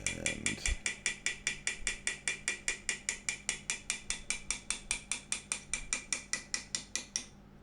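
A 1.5mm flat graver is driven into metal for wire inlay with a quick, even run of about thirty sharp metallic taps. The taps are close and quiet and stop abruptly.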